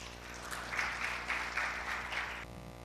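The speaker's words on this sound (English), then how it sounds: "Please welcome him with a great applause" An audience at a conference session on autonomous ships claps to welcome a speaker: a short, moderate burst of applause that swells and then stops abruptly.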